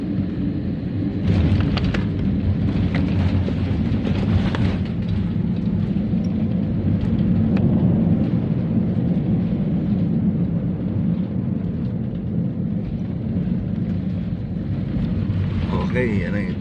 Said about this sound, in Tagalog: smooth touchdown